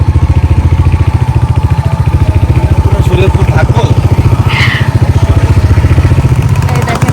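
A motorcycle rolls along a village road with a loud, close, steady engine putter and rhythmic low thumping, while a voice speaks over it partway through.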